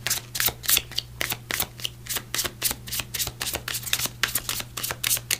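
A deck of Metatron Oracle cards is shuffled by hand in a quick run of crisp riffling flicks, close and steady for several seconds with no talk.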